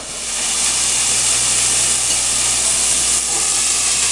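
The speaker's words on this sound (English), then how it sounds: "Oh, listen to that sizzle." A loud, steady sizzle fills the air, a constant bright hiss of shrimp frying in a hot pan with no talking.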